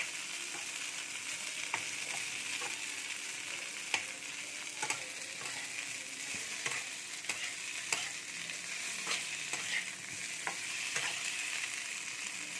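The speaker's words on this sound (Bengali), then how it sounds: "দেখুন আলু আর ফুলকপি প্রায় ভাজা হয়ে এসছে।" Potatoes and cauliflower fry in a pan with cumin and chilli, stirred as they brown for a fish dish. A steady, close sizzle runs throughout, broken by regular sharp spatula scrapes and clicks, with no talking.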